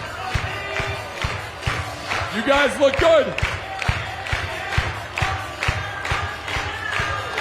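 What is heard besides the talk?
crowd cheering and clapping at stadium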